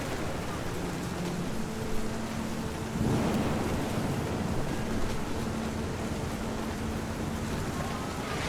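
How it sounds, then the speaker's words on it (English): A thunderstorm in the video game What Remains of Edith Finch: a steady, dense wash of rain with low rolling thunder swelling partway through, continuous and enveloping. "Thunder sounded much too close and full of angry power."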